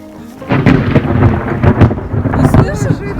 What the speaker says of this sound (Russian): Ты слышишь, как гремит?